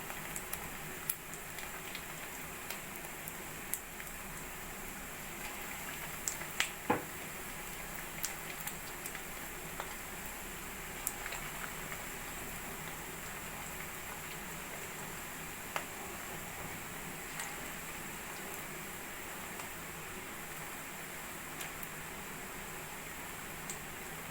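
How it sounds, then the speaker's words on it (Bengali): Small fish egg pakoras sizzle in hot oil with a constant soft hiss, sprinkled with faint ticking pops and occasional sharper crackles throughout. "মাছের ডিমের পকোড়াগুলো আমি ভেজে নেবো"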